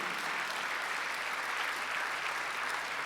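Congregation applauding during a Sunday church service, a steady, even wash of many hands clapping together, moderately distant and without speech over it.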